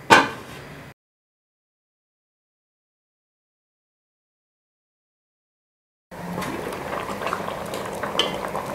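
Water for daal chawal rice comes to a boil in a pot over a full flame, a steady low bubbling and simmer that starts after a long silent gap, preceded by a brief clatter.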